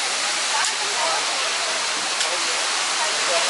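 The Dim Chay mountain river near Alanya, Turkey, rushes past close by in a constant, dense roar of water, with a couple of faint clicks on top.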